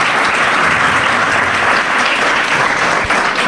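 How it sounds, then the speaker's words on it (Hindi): Dense, loud audience applause at a school event honoring top exam students, a continuous wash of many hands clapping that holds steady without talk. "उनके लिए भी बहुत बहुत तालियां"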